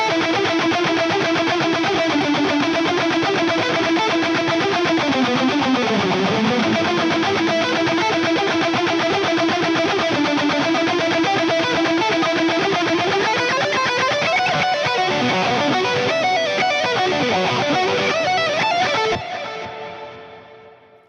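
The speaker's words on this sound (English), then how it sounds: "So the lead sound in solo sounds like this." Distorted electric guitar lead through the JST Toneforge Jeff Loomis plugin with delay and reverb, sustained soloing notes and bends played loud and alone, then ringing out and fading at the end.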